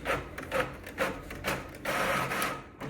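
An Epson LP6460 printer feeds and prints pages, a rhythmic mechanical rubbing and whirring in repeated pulses at moderate, fairly soft level, with no voices.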